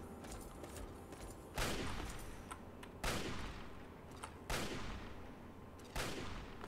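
Gunfire in Fallout 3 rings out as four evenly spaced single shots, each a sharp crack with a long echoing tail, over a low steady ambient hum.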